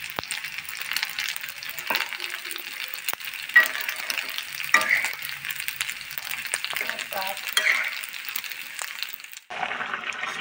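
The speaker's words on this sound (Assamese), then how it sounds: "এতিয়া মই এড কৰিছোঁ ভাজি থোৱা মাছ।" An Assamese sour fish curry with dhekia fern sizzles and bubbles steadily in the pot as pieces of fried fish are added to the simmering water, with soft clinks and stirring along the way.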